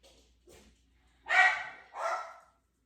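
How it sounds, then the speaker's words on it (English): A dog barks twice in the background during a yoga class, two fairly loud, distinct barks spaced about half a second apart, preceded by a couple of faint yips, otherwise quiet. "Hope you might hear the dog barking."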